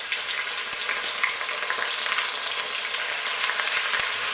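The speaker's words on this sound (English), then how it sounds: "fry your chopped onions" Chopped onions frying in hot oil for Njangsa sauce, a loud, dense, continuous sizzle with faint crackles, close up and steady.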